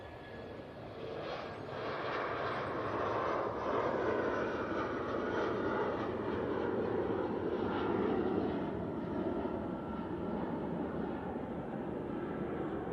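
An Airbus A319 bound for London Heathrow drones past at Manchester Airport, a fairly faint but continuous engine rush that rises gently and holds steady throughout.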